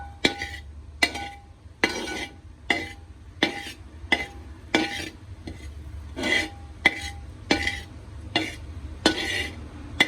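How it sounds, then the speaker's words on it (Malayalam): A spoon scrapes and clinks against a pan in regular strokes while an avalos podi rice-flour mixture dry-roasts on low flame, about a dozen sharp scraping sweeps with a faint sizzle between them. "കരിഞ്ഞു പോകാതെ നന്നായിട്ട് വറുത്തെടുക്കാം."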